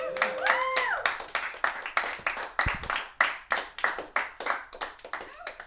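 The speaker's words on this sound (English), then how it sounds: "please just keep on applauding for all the comedians tonight" Clapping from a few people at an online comedy open mic comes as a steady run of close, crisp handclaps with no voices over it.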